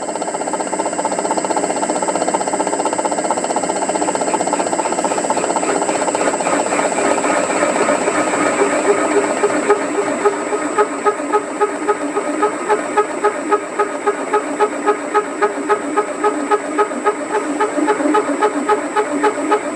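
Machine feed boring a counterbore in metal on a lathe, a steady dense mechanical drone with a fine rhythmic ticking that grows more pronounced toward the end, loud and continuous with no talk.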